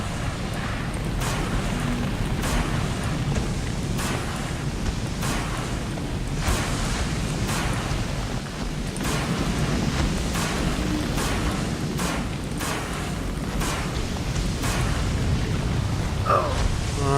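A fire extinguisher sprays out a blaze aboard the wrecked Aurora in Subnautica, giving a continuous rushing hiss broken by regular sharp bursts and clicks throughout.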